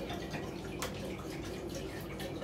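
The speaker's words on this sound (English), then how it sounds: "So I'm gonna fill this up with water." Tap water runs steadily into a container for a pepper fermentation brine, a continuous close splashing hiss with a brief bright drip or splash partway through.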